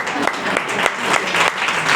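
An audience applauds Enrique and Marga at a science talk on plant genes, a dense two-second burst of clapping that stays steady and fairly loud throughout.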